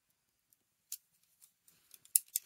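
Scissors cut paper for a small junk journal pocket, making a few faint, quiet snips spread unevenly over a couple of seconds, with a short cluster of snips near the end.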